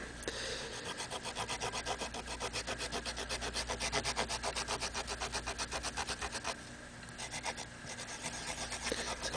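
Corroded pin connectors of a Nintendo cartridge get polished by hand, a fast rhythmic rasping scrub of even back-and-forth strokes, close and continuous, briefly pausing before resuming, with no speech.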